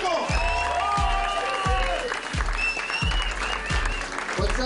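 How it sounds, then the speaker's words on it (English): Applause from an audience greeting a performer from Singapore at a show in LA, a steady wash of clapping with a heavy thumping beat pulsing underneath at regular intervals, busy and loud throughout. "Give him a round of applause"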